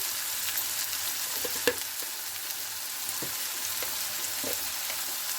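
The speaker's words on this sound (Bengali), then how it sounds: "এবার আমি ভালো করে মশলাটা ভুনা করে নেব। হালকা হাতে কষিয়ে মশলাটা আমি ভুনা করে নেব।" Ground chilli, turmeric and cumin masala sautéing in a pan, a soft continuous sizzle with occasional light clicks and one sharper tap of the spoon, close and without talk.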